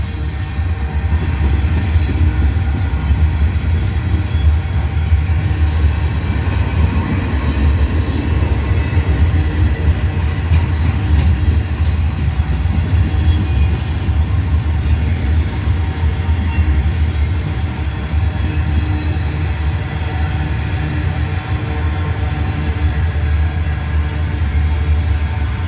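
Long, heavy freight train hauled by three engines keeps rolling past, a steady deep rumble with faint rhythmic clickety-clack of wheels over the rails, loud and unbroken for the whole stretch.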